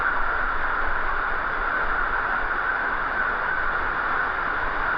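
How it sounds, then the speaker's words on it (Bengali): Heavy rain pours down during a Kalbaishakhi storm over a char on the Padma river, near soaked corn fields; a dense, steady hiss holds at an even level throughout with no voices. "বাইরে প্রচুর পরিমাণ বৃষ্টি হচ্ছে"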